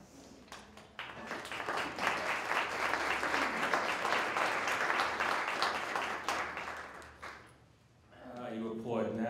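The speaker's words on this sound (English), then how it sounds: "You applaud now, just wait." Sustained audience applause in a lecture hall as a speaker is introduced at a talk on liberal education, opening with scattered claps, swelling to a full roar, then fading before a voice begins speaking.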